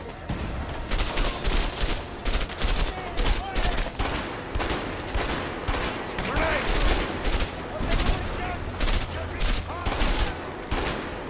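Rapid bursts of gunfire from a co-op prison-escape shootout in the video game A Way Out, dense volleys and single shots repeating close and loud throughout, with game music and effects underneath.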